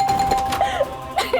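Doorbell ringing late at night in a home, a few bright electronic chimes repeating in short bursts, fairly clear and close with no talking.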